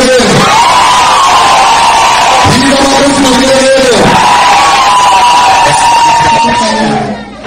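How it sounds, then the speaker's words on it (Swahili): Wedding congregation inside a church ululating in long, loud, wavering trills from many voices, rising and falling in overlapping waves and joined by cheering for about seven seconds. "Piga makofi na vigelegele."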